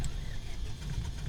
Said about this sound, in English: Looks like a good engine start.